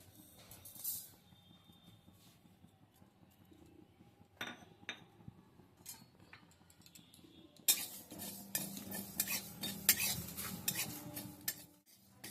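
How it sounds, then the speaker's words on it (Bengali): Mustard seeds, poppy seeds, a dried chilli, whole cumin and fenugreek dry-roasting in a wok, stirred with a spoon: close, intermittent metallic clinks and scrapes, sparse at first and then busier and louder toward the end, with no talking. "এগুলোকে আমি শুকনো কড়াইয়ে ভেজে নিচ্ছি"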